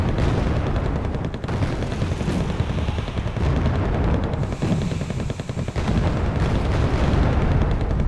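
Loud, continuous video-game battle din as a Bradley, a Humvee, an M1A1 and a T-55A are destroyed: dense booming explosions and rattling gunfire overlap without a break for the whole stretch.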